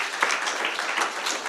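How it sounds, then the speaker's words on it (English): Audience at a Black Tech Day event bursts into applause, a dense, continuous wash of clapping from many hands, moderately loud and steady. "So give yourselves a round of applause."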